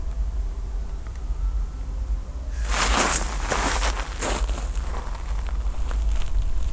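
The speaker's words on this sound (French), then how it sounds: "On entend bien quelque chose, quelqu'un qui marche dans les graviers." Footsteps crunching across gravel in a cemetery at night, starting a few seconds in as a steady series of fairly close, rough crunching steps over a constant low background hum.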